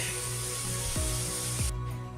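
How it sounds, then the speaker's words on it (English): Pam cooking spray hisses onto tin foil in a steady, close spray that runs for under two seconds and then cuts off abruptly, with a couple of light handling knocks during it. "I'm going to give it a good spray of Pam so nothing will stick."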